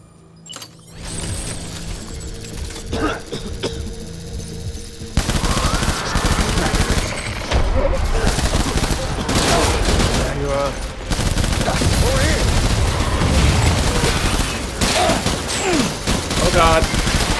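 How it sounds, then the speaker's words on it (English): Sustained bursts of automatic gunfire and rapid shots in the video game Death Stranding: Director's Cut, loud and dense with mechanical clicks, starting faint then nearly continuous, with a voice speaking over parts of it. "are they still shooting?"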